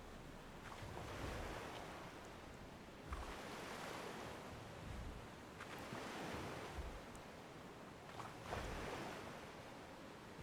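Ocean waves in Mount & Blade 2: Bannerlord roll in at sea during a naval fleet battle, a soft, steady surf with gusting wind and periodic swells about every two to three seconds, no voices.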